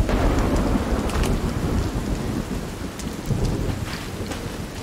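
Steady rain and rumbling thunder in the Sons of the Forest video game, a continuous loud downpour with thunder rolling underneath throughout, no voices.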